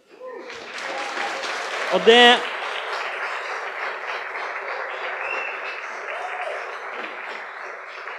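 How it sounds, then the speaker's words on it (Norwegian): Audience applause at an anniversary celebration roast, a broad wash of clapping that swells and holds, with a voice briefly speaking over it. "Det skal dere ha en stor applaus for."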